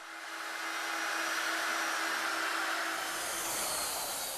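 A router with a jig cuts tenons in hardwood, giving a loud, steady high-pitched whine with a hissing cutting noise, continuous and close, its tone shifting slightly as the cut deepens.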